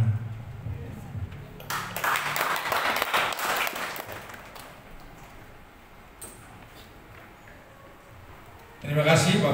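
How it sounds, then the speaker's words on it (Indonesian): An audience at a Christmas celebration in an Indonesian Baptist church in Depok breaks into warm applause lasting a few seconds, then fades as a voice speaks over the hall. "Sekali lagi berikan tepuk tangan yang meriah"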